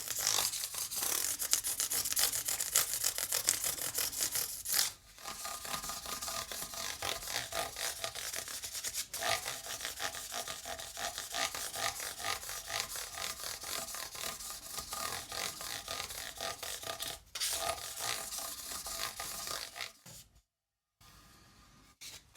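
Fine-grit sandpaper, worked up to around 1200 grit, rubs along the fret ends of a Gibson Les Paul Junior guitar in a steady, close, continuous rasping scrub with a brief pause partway through; nobody speaks.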